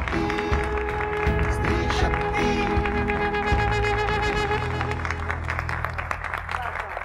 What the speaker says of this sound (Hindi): तो तालियों के साथ दोस्तों स्वागत करते हैं